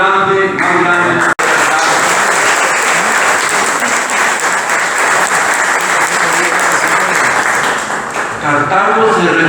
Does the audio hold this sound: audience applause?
yes